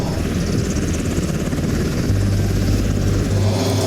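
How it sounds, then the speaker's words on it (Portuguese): A helicopter in a Stranger Things season 4 scene, with loud, continuous rotor and engine noise and a low droning hum that thickens partway through. "A helicóptero foram buscar ele."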